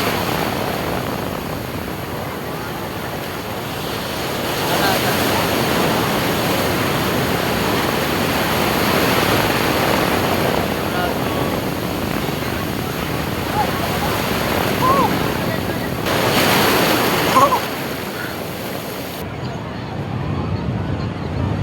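Ocean surf at Puri beach rolls in as a continuous broadband wash of breaking waves, fairly loud and steady, swelling slightly near the end.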